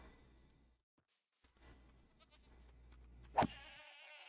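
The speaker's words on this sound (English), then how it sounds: "Go away, you stupid goat." A Minecraft goat in the FTB Skies 2 modpack gives a single short bleat amid quiet game ambience and faint clicks, followed by a brief mechanical whir.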